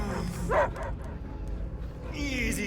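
A dog from the video game Guardians of the Galaxy barks and whimpers in a few short yips, with game ambience and voices around it.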